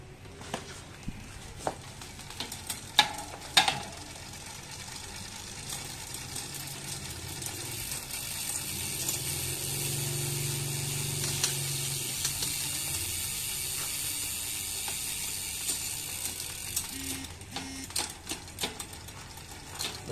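Gear shifting on a 30-speed mountain bike drivetrain, 10-speed rear cassette and 3 front chainrings: a steady whirring freewheel and chain run with scattered clicking ratchet ticks and sharp clacks of shifts, close up, with no voices.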